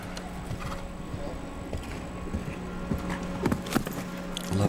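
Hooves of a 10-year-old grey Holsteiner gelding show jumper at a World Cup final in Las Vegas, clip-clopping in an irregular patter against a steady arena hum, with a faint whinny and some crowd noise around.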